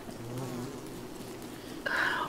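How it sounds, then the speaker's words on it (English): Bees buzz in the video game Don't Starve, a soft continuous drone that swells suddenly louder near the end as more of the insects gather close. "Oh my god, there's a lot of bees."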